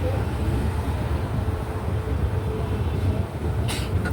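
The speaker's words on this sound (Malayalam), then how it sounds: "തിരുവനന്തപുരം സെൻട്രലിൻ്റെ പ്ലാറ്റ്ഫോമിലേക്ക് ട്രെയിൻ കയറുകയാണ്." Pune–Kanniyakumari Express train rolling into Thiruvananthapuram Central platform, a steady low rumble of wheels and carriages throughout, with a brief hiss of air near the end.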